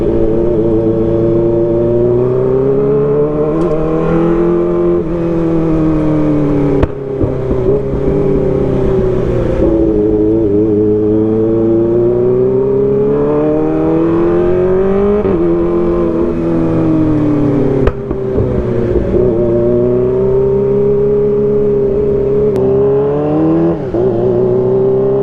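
Kawasaki ZX25R motorcycle fitted with an Arrow Pro Race exhaust, revving loudly and continuously up and down in long sweeping waves, with a few sharp pops, close and alone.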